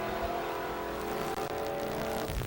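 A 1963 Max Wedge Plymouth Sport Fury drag racing in pure stock at the NMCA World Finals, its engine roaring loud and sustained at full throttle, a strained, steady howl with no voices.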